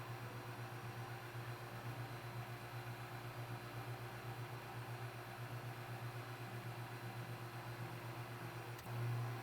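A vacuum pump hums steadily while drawing oil out of a motorcycle shock absorber on a shock bleeder rig, a constant low drone with faint hiss that swells slightly near the end.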